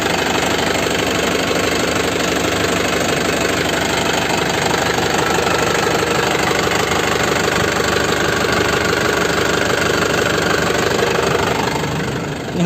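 The engine of a 2005 manual Grand Touring car idles, close and loud, with a steady, even, slightly clattery rumble that runs unbroken throughout.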